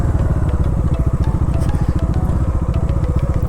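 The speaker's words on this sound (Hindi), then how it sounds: "स्पोर्ट टूरर बाइक है यार" A sport touring motorcycle engine runs close and loud, with a steady, fast-pulsing throb and slight crackle throughout, no other sounds on top.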